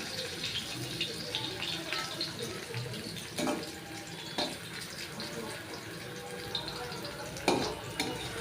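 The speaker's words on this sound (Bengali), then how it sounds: "এবার আমি আলুগুলো ভেজে নেব।" Potatoes fry in a pan, giving a steady, moderately loud hiss broken by a few sharp clinks and scrapes of stirring, with no talk.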